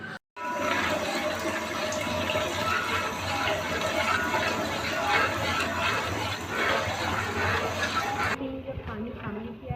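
Water gushes steadily into a yogurt and gram flour kadhi mixture, a loud continuous pouring that runs for several seconds before stopping abruptly near the end.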